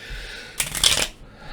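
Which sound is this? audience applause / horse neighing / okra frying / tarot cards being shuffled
tarot cards being shuffled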